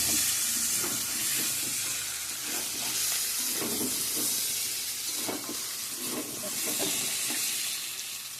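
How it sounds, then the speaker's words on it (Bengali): Meat and potatoes sizzling in a covered pan as they are braised, a continuous close hiss and crackle with soft stirring scrapes, no voices. "মাংসটা আমার সুন্দর করে কষানো হয়ে গেছে,"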